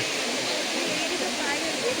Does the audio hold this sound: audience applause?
no